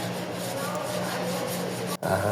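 Steady rasping scrape of sandpaper rubbed back and forth over spray filler on a Montero Sport car bumper, continuous and close, with a brief pause near the end.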